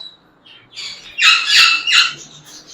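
Exotic pet parrots kept for sale at a bird market: a few close, harsh squawks and chirps in quick succession over a quiet background.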